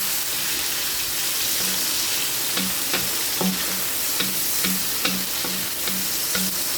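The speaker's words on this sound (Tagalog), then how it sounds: "Pagkatapos igisa yung bawang sibuyas tapos kamatis, lagay na po natin yung hipon." Garlic, onion and tomato sautéing in a pan for shrimp, a steady close sizzle with rhythmic stirring scrapes every half second or so, no talking.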